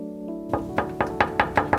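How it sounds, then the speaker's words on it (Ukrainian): Knocking on a door: a steady run of six evenly spaced raps, close and clear, following a soft background tone, with no talking. "О, хтось прийшов, стукає."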